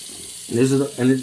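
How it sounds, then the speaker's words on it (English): Tap water runs at a bathroom sink as a face is rinsed after a vintage wet shave, with short splashing bursts of water close to the microphone. "as I'm rinsing my face"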